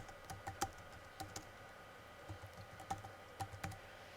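Computer keyboard keys click in short bursts and scattered taps while text is entered, quiet and close with irregular pauses between keystrokes.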